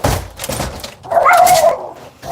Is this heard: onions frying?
no